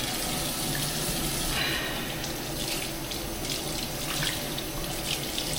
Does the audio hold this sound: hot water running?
yes